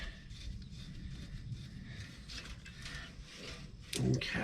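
A ratchet clicks in quick mechanical bursts while a nut is refastened on the driver-side air tank of a 2007 Freightliner Columbia truck, close and moderately loud, ending in a sharper clank.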